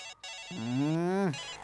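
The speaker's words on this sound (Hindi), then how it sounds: "ये फोन भी जब देखो बजता ही रहता है।" A single electronic ringtone tone rises steadily in pitch for under a second, bright and buzzy, then cuts off abruptly.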